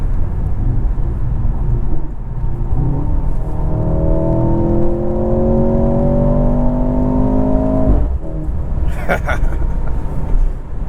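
A 2023 Mercedes C43 AMG sedan in manual mode pulls hard on an empty road, engine note climbing steadily through a long rising run, then a shift and a quick blip with tire and cabin rumble under it, heard from inside the car.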